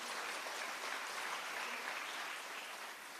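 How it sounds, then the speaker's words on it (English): Audience applause during a bishop's presentation at a large Catholic family gathering, a dense even wash of clapping from a big crowd, faint and distant, steady throughout with no talk over it. "clap for that, that's true."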